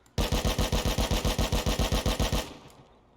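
The HMLMG machine gun in the video game Rust fires one sustained rapid burst of roughly twenty evenly spaced heavy shots, loud and close, then cuts off into a short fading tail.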